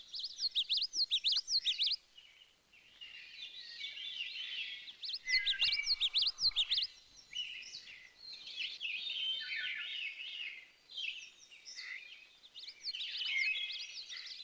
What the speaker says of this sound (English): like this common snipe